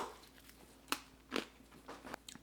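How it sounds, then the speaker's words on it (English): Crunchy bites into crispy-skinned grilled pork belly cooked on a Weber kettle: several sharp, close crackling crunches spaced about half a second apart, with no talking. "you have to hear the crunch on this"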